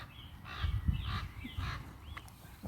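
A raven gives a few harsh caws in a short series outdoors, moderately close, while a woman calls to a dog nearby.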